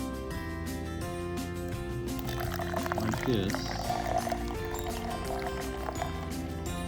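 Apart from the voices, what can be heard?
pouring widget-charged Guinness beer into a cup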